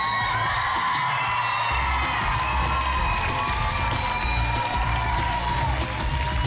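Audience at a children's talent contest final cheers and whoops for a young contestant, a loud continuous crowd roar with shouting children and some clapping, with music tones sustained underneath throughout.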